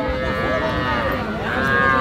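Cattle low at a busy livestock market where calves, bulls and heifers are sold, a steady moo running under crowd noise throughout.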